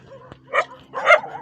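Several stray dogs in a forest bark in two short, loud bursts close by, with a faint yip between them and no talking.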